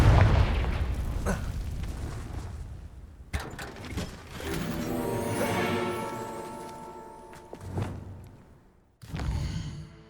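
Confringo spell explosion in the Hogwarts Legacy video game, a few sharp booming blasts with metallic clanks and ringing tonal swells between them, loud and close, fading into a final burst.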